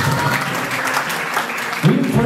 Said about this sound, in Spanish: fuerte los aplausos para el papito